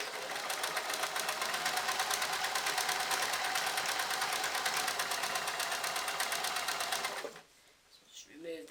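A sewing machine stitches trousers, running forward, back and forward again in a steady close mechanical whir for about seven seconds before stopping, leaving quiet fabric handling.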